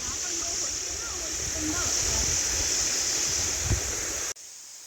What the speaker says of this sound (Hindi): देखिए ये भी बहुत बड़ी नदी है